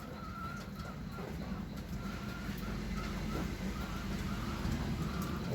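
Pigeons cooing outdoors in low, repeated soft calls over a steady background of rain-like hiss and distant ambient noise, fairly faint throughout.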